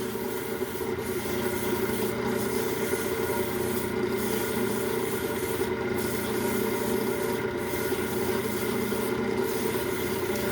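A strip of 6-inch sander belt pressed into the grooves of a wooden piece spinning on a lathe at about 1100 RPM, giving a continuous close rubbing hiss with faint periodic swells and no voices.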